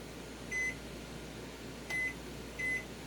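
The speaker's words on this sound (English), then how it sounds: "I'm going to put that in the microwave for about 20 seconds." A microwave oven gives three short, sharp beeps over a faint, steady low hum in a quiet room.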